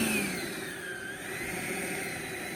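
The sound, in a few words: E-flite Viper 90mm EDF RC jet with 5280RC afterburner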